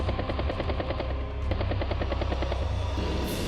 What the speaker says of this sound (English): Seaplane strikes the tank.